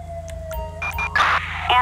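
A steady wailing ambulance siren from the video game GTA V plays in a daytime park ranger patrol, holding one tone and then shifting pitch, mixed with game effects and other in-game noise.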